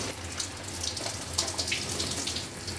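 Water from a shower runs in a bathroom as a steady, hissing spray at moderate distance, fairly faint and continuous with no voices.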